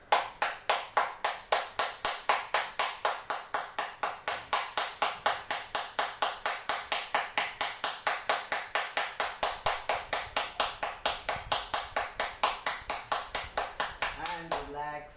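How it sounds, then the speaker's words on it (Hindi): A group claps hands loudly and in unison in a steady, even rhythm of sharp claps that run for the whole stretch, near and strong, before trailing off into a few voices at the end. "उनके लिए जोरदार हम ताली बजाएंगे।"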